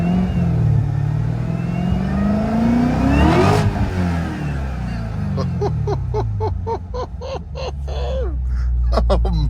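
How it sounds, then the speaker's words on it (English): A Corvette Z06's supercharger whines higher as the car accelerates hard, the engine climbing steadily, then shifting gears with a rapid rhythmic pulsing, loud and close inside the cabin. "And you actually hear that supercharger winding up."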